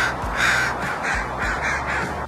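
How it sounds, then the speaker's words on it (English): Several crows give harsh, repeated caws as alarm calls in a quick rhythmic series, loud and close, with no other sounds. "When the crows saw the dangerous face, they would alarm call and they would also dive bomb that person."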